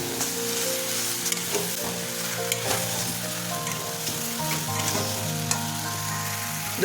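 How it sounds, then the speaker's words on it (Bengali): Chicken and vegetables sauté in a kadai with no added oil, giving a continuous close sizzle with scraping stirs and occasional spoon clinks, no talking. "এখন এটাকে আমরা প্রায় মিনিট ধরে কষাতে থাকবো মাংস আর সবজিগুলোকে"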